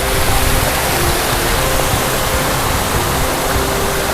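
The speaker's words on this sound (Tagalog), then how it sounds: "So that's the small waterfall there." A small village waterfall in Taşköprü, Turkey, heard up close as a loud, unbroken broadband rush of falling water with no voices over it.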